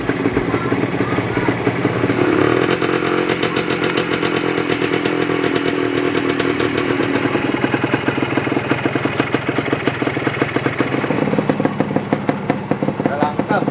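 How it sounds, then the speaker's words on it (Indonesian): A restored Suzuki TS125 motorcycle engine sputters to life and settles into a steady, rapid idle, running loud and close throughout, with a voice talking over it. "Oke, saatnya kita untuk nyalain motor ini."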